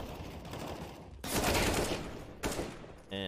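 Rapid bursts of automatic gunfire from the video game CS:GO crackle in quick succession, with two louder volleys punching through a busy background of game sounds.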